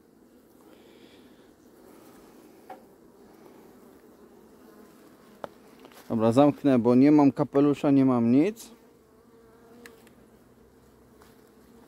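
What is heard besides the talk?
honeybees buzzing at an open hive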